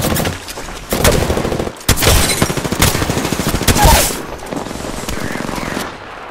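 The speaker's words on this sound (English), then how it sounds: "Getting shot at" Sustained automatic gunfire in Apex Legends, loud and close, with rapid continuous bursts broken by a brief pause before the shooting resumes and runs on.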